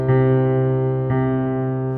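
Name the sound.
piano chord with repeated top note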